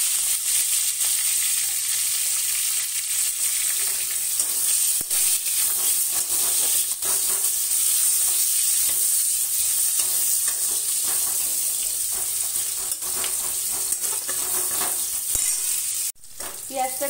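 Onion with green chilli and five-spice tempering sizzles steadily in hot oil in a pan where pumpkin has been frying. The loud, continuous frying hiss is broken by occasional scraping stirs, with a brief clatter near the end.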